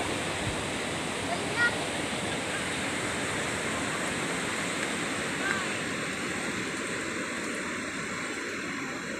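Continuous roar of sea surf with people bathing fills the scene, a broad steady wash of water with faint distant voices now and then.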